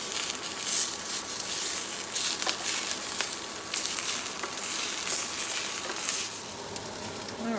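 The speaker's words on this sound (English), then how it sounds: "you can see my sausages are starting to cook" Sausages sizzle and fry in a pan on a smoky kitchen stove, a steady dense crackle with scattered pops, close and continuous throughout without talk.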